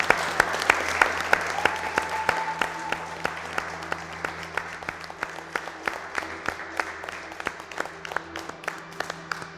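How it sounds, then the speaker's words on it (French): Studio audience on the Best Chef Africa cooking show clapping steadily, with sharp individual claps standing out over a dense patter and a faint background hum, lasting the whole stretch without voices. "J'aimerais qu'on vous applaudisse une dernière fois."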